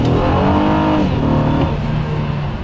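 A 2014 Honda Accord V6 accelerating hard, heard from inside the car as a loud, rising engine drone with climbing harmonics over a couple of seconds, no talking.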